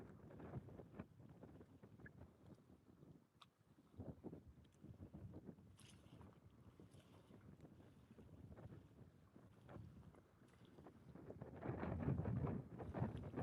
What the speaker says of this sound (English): This wind's getting stupid.